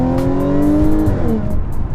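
Audi S4 engine in sport manual mode revving up, pitch climbing then dropping sharply as a gear changes, loud and close with a throaty, rasping tone.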